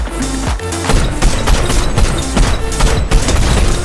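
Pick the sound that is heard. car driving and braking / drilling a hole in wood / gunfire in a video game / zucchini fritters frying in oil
gunfire in a video game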